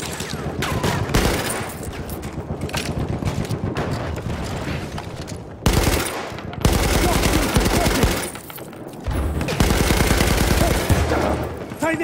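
Sustained machine gun fire from a support MG gunner in Battlefield 1 on the Amiens map, loud and continuous, with dense rapid bursts broken by a couple of short pauses near the middle.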